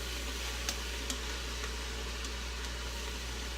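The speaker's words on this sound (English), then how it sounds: "Add some garlic and let this saute for about 5 to 7 minutes." Peppers and garlic sauté in an Instant Pot with a faint, steady sizzle and a couple of soft stirring ticks, heard alone.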